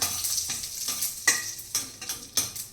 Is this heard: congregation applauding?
no